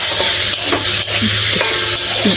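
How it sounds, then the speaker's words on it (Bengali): Thick pieces of bitter gourd frying in a little oil in a covered pan, giving a loud, steady sizzle with faint stirring scrapes, close up and without talking. "এই তো দেখতে পাচ্ছ ভাজা হচ্ছে করলা ভাজা এটা"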